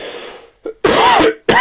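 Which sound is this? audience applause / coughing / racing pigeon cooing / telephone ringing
coughing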